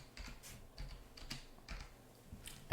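Keystrokes on a computer keyboard while entering a command in a Linux terminal: a few spaced, fairly soft clacks in short clusters, ending in a firmer press, with no talking.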